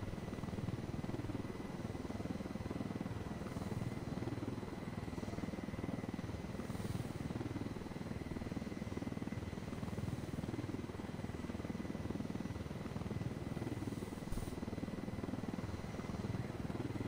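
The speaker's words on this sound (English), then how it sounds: "I will try not to break the chopper this time." A video-game helicopter flies with a steady, continuous rotor drone that holds at an even volume throughout, with no voices over it.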